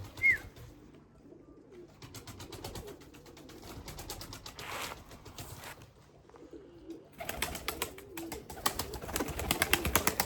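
Soft, repeated coos and murmurs of young Limoni pigeons close by, with rustling and a few brief chirps, growing busier toward the end.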